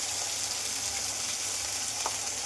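Ground spice paste frying with reddened tomatoes in a pan for a chicken dish gives a steady, dense sizzle that holds evenly throughout, close and unbroken.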